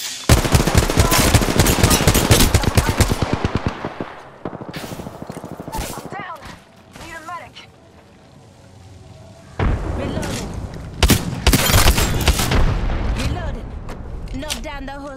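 Loud bursts of automatic gunfire and booming shots in the video game Apex Legends, intense at first, easing into a quieter spell, then flaring up again; a voice talks in places.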